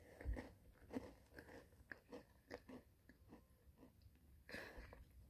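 Gingerbread eaten close to the mic, a series of quiet crisp bites and chewing crunches at an uneven pace over a few seconds, faint and alone.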